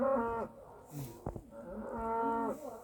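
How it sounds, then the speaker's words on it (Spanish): A cow moos in two drawn-out, fairly faint calls separated by a short gap, heard at a rural farmstead in the evening with no talking. "Vaca."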